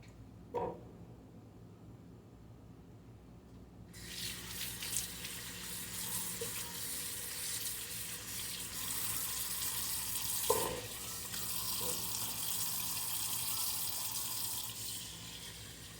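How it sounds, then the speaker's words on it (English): Blackberries being rinsed under a running kitchen tap while preparing berries for canning juice: a steady, close hiss of flowing water that starts a few seconds in and continues, with occasional splashes and clinks. "And you notice I'm just rinsing them again as I toss them over."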